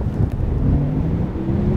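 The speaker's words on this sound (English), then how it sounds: "It's super windy today" Strong wind buffets the microphone outdoors in a steady, loud low rumble lasting the whole stretch, with no voices.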